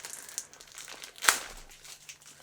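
A plastic Ziploc bag, taped shut over its zipper, is pulled open: soft crinkling of the plastic, then one sharp tearing rip from the tape midway through, close and fairly quiet.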